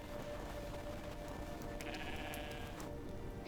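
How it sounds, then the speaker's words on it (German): A sheep gives a single short bleat that rises and fades within about a second, quiet and set against a faint background hiss. "Schaf."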